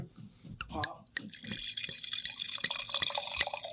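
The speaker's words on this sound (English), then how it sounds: "that is a big pour, especially for 4 red wines that we're gonna drink" Red wine poured generously into a glass, a steady close liquid stream lasting several seconds, with brief talk at the start.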